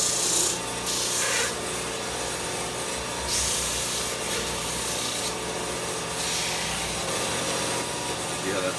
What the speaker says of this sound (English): And the best tool for this is going to be my disc sander.